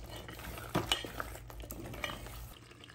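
Malai gosht with fresh cream being stirred in a pan over a medium flame, a spoon scraping and clinking against the metal in a few distinct strokes over a low steady background.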